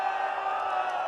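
Crowd at a political election rally in Sembawang, Singapore, cheering and whooping loudly in a steady, dense roar that fills the space without letup.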